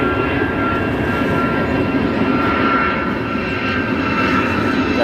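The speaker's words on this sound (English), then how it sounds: "We have our Astrojet retro livery that landed just a moment ago that we can get taxiing" An airliner in Astrojet retro livery taxis at O'Hare International Airport just after landing, its engines giving a steady, continuous roar at moderate distance with no break across the stretch.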